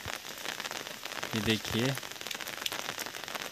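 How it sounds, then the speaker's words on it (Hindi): Heavy rain falls steadily in the Uttarakhand hills, a dense close hiss throughout, while someone speaks briefly over it. "ये इतनी ज़्यादा बारिश हो रखी है यहाँ।"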